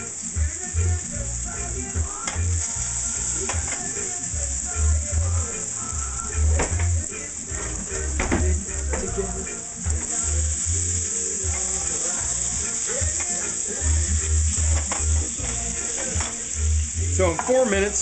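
French fries frying in hot oil, a steady loud sizzle and crackle running continuously, with faint low thumps from the kitchen underneath.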